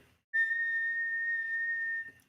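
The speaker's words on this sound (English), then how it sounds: "a teapot whistling" A teapot whistles on the fire, one steady shrill tone that rises in abruptly, holds loud and unbroken for nearly two seconds, then cuts off.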